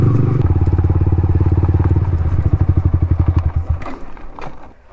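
A Yamaha R15 V3 motorcycle fitted with a loud Akrapovic full-system exhaust roars close by, its throbbing engine note dropping into a rapid popping, crackling burble on deceleration before fading off.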